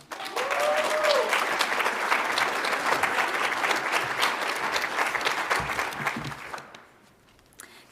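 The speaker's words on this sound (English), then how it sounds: "Please give a round of applause for Berenice Alfaro Estrada." Loud, dense applause from the crowd at a nursing pinning ceremony for a student speaker, sustained for several seconds before dying away abruptly.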